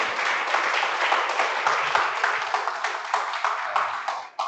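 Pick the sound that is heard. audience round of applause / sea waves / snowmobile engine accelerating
audience round of applause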